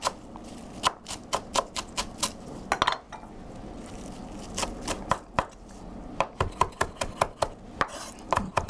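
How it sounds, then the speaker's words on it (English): Fresh cilantro, stems included, is chopped with a knife on a cutting board in a kitchen, a series of crisp, close, irregular thuds coming in quick bursts with short pauses between them. "So now I'm going to chop my cilantro."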